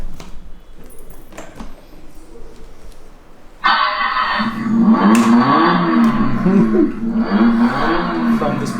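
A Benelli TNT 1130 motorcycle with an under-seat rear exhaust fires up abruptly and settles into a loud, close idle with repeated throttle blips rising and falling, after some quieter background chatter.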